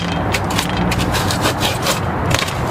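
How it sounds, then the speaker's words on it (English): A blade or gouge cuts and scrapes into a prop tombstone, giving rapid rhythmic rasping strokes, loud and close, with no talking. "Just gonna cut right in there"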